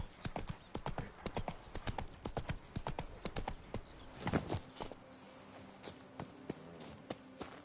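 Roach the horse gallops in The Witcher 3 with rapid, rhythmic hoofbeat clip-clops close by. The beats come quick and dense at first, then thin out and space apart, with a brief snort in the middle.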